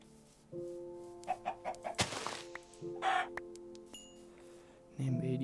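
Short, quick chicken clucks in Minecraft come in a small burst over a steady electronic hum and soft tones, with a few sharp clicks and thuds around them.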